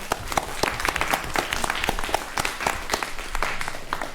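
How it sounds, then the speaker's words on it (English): Audience at a community meeting applauding, many hands clapping together in a lively, continuous burst, fairly loud and close throughout. "I want to have a round of applause for College Park."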